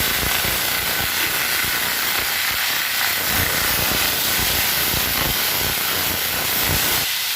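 Chopped onions and slit green chilies fry in hot oil in a pan for a bottle gourd leaf dish, giving a steady, close, loud sizzling hiss without pause.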